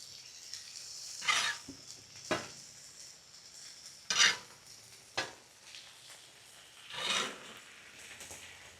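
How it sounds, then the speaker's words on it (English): Sausage patties get flipped on a Loco griddle, with a faint sizzle underneath several sharp metallic spatula scrapes and clinks spaced a second or two apart. "I'm going to go ahead and flip them"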